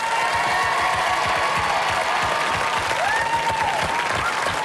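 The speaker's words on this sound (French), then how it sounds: "Je demande un tonnerre d'applaudissements pour nos deux équipes, s'il vous plaît" Studio audience applauding the two teams on the French game show L'or à l'appel, a loud, steady, dense clapping that lasts throughout with a faint whistle and cheer mixed in.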